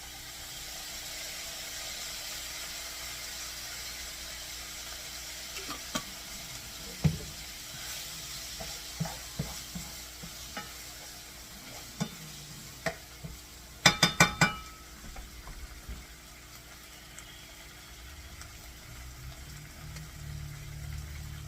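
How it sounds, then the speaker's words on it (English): Picante sauce sizzles in a pan of Mexican chicken pasta while it is stirred, a quiet steady hiss broken by scattered scrapes and clinks of the utensil against the pan. "I'm going to go ahead and add my picante sauce"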